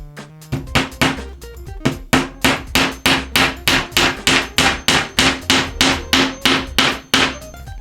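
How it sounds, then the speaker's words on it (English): Hammer blows drive a nail into a wooden canvas frame, about sixteen sharp, evenly paced strikes in quick succession, loud and close, with no talking. "hammer that in"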